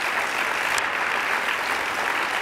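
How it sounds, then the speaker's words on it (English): A crowd at a community reception claps in thanks to the sponsoring chambers of commerce, a continuous even roar of many hands with no pauses. "let's give them a big round of applause."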